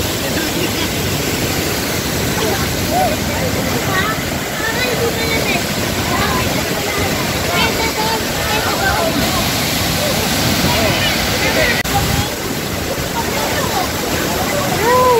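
Taytay Falls in Laguna pours in a steady, loud, broadband rush of falling water, continuous and close throughout, with faint voices mixed in beneath the roar.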